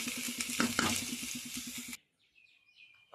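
Potato fry (urlagadda vepudu) sizzling in a pan, a steady crackling sizzle for two seconds with a rhythmic stirring pulse, then cutting to near silence with faint bird chirps.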